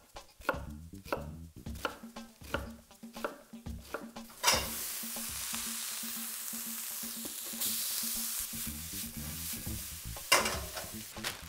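Rapid knife chopping taps give way to a loud, close hiss as peppers and onion hit a hot pan for Israeli couscous, sizzling steadily for several seconds before the chopping resumes.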